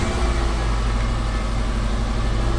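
Subaru Forester engine running at a steady idle, a continuous low rumble with a constant hum, close and even throughout with no talk.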